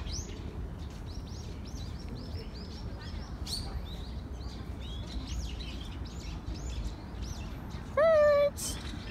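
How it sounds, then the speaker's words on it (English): Birds chirp and tweet at Incheon Peace Park in a steady scatter of short, fairly faint calls over outdoor background noise, with one louder, clearer whistle near the end. "Birds!"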